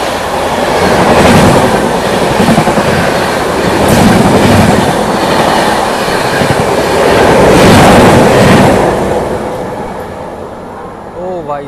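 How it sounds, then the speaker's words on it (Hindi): The Barauni–New Delhi clone special train rushes past on adjacent tracks, a loud, close rumble with rhythmic clickety-clack of wheels swelling and fading over several seconds, ending in a faint squeal. "बरौनी से न्यू दिल्ली के बीच चलने वाली Barauni new Delhi clone special train जो है वो ओवरटेक करके चली गई"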